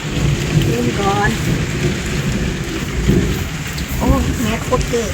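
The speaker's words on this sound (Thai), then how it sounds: "ฝนตกนะคะ" Heavy rain pours steadily with thunder rumbling, a constant wash of downpour beside a fishing pond, while a few voices talk over it.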